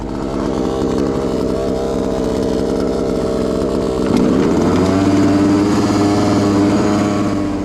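A petrol engine on a 1:5 scale RC mini race car idles high with a steady buzzing drone, then shifts pitch partway through before settling into a lower, even hum.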